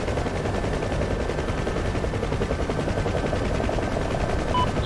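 Anti-aircraft gunfire in the DCS flight simulator video game, heard as a continuous rapid rattling burst over a heavy rotor and engine drone from a helicopter cockpit, loud and unbroken, with no talk.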